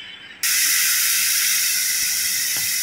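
Ghee heating in a hot pan for a khoa sweet gives a sudden, loud, steady sizzling hiss that starts just under half a second in and continues without a break.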